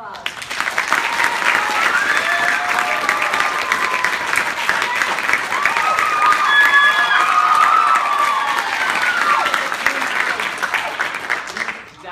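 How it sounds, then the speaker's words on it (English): Sustained audience applause with cheering from a crowd, honoring the director of a Sundance-style staging of Hansel and Gretel; steady, dense clapping that holds for about twelve seconds before tapering at the end. "please give him a warm round of applause"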